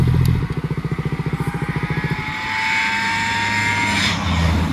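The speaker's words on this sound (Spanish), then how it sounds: "Qué delicia de moto." A Honda CBR 650 R sport motorcycle engine revs close up with a fast, pulsing throb that rises, then settles into a steadier, loud running drone while riding.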